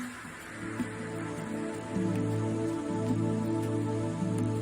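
Steady rain falls across a tropical rainforest, an even close hiss of drops on leaves and surfaces layered over a sustained tonal drone, with no voices.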